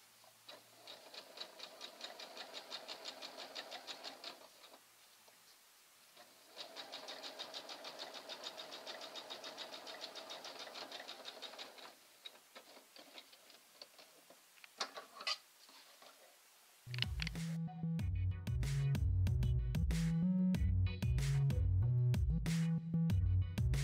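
Sewing machine stitching a fringed burlap table runner, running in two steady rhythmic bursts separated by a short pause, then cut off as loud music takes over for the final seconds.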